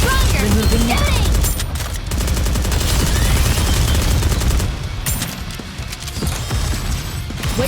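Rapid bursts of gunfire from the anime-style shooter Goddess of Victory NIKKE, loud and nearly continuous with brief gaps, mixed with mechanical clatter and game effects.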